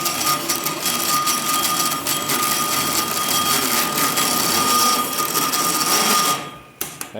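A Volkswagen Beetle engine with a stiff motor and weak starter cranks over in a continuous labored whir with a high whine, grinding on for several seconds before abruptly cutting off, close and loud.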